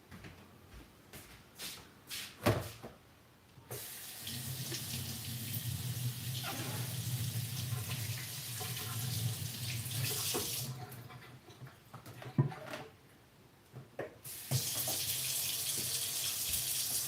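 Tap water runs into a sink to soak a baking stone, a steady close stream with handling clatter and brief pauses where the flow stops and restarts.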